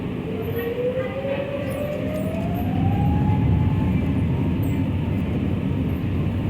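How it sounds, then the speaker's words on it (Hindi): An Air India airliner's main engine spooling up before takeoff on a Mumbai to Delhi flight: a loud, steady broadband roar with a whine that rises in pitch and then levels off, with no talk. "तो उड़ान भरने से पहले इस तरह से ये आवाज़ आती है और ये समझ लीजिए कि इसका जो मेन इंजन स्टार्ट हो गया है"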